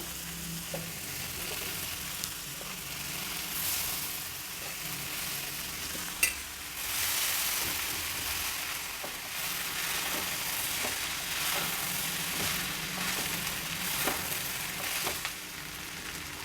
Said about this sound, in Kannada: ಈಗ ರೆಡಿ ಇಟ್ಕೊಂಡಿರೋ ಅನ್ನನ ಹಾಕೋಣ ಅನ್ನ ಹಾಕುವಾಗ ಕಡಿಮೆ ಫ್ಲೇಮ್ ಇಟ್ಕೊಂಡು ಹಾಕಬೇಕು